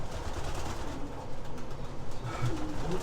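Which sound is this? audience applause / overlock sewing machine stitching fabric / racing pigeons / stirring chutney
racing pigeons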